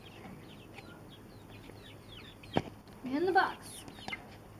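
Chickens heading into a box at bedtime give a short squawk and a brief cluck against a quiet background, with a person speaking briefly.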